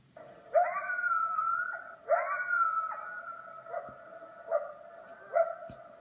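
Coyote calls from a recording: several rising yips and wavering howls in a loose series, clear and moderately loud against a quiet background, with no talking.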